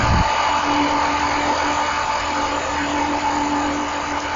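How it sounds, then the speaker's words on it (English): A 12,000-pound hydraulic torque head on a straight mast drives a helical pier into the ground for rollercoaster footings, giving a loud, steady, close whirring drone that holds even throughout. "eventually it'll start to pull the pipe down with the torque that's being given by the head"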